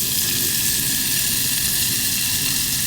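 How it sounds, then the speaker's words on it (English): Unsalted butter melts in a hot pan for a chocolate soufflé, giving a steady, close sizzling hiss that holds even and continuous for the whole stretch with no voices. "We're going to melt the butter and then we're going to add the chocolate to it"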